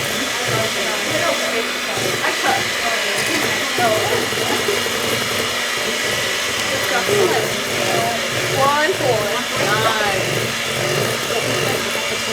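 An electric mixer whirs steadily while blending cake batter, a continuous mid-level motor hum running throughout, with people chatting over it in a kitchen.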